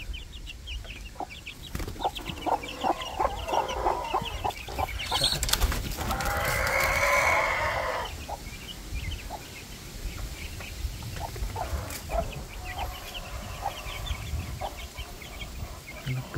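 Farmyard hens cluck in short, scattered bursts at a moderate distance, with a louder flurry of squawking partway through over low background rustle.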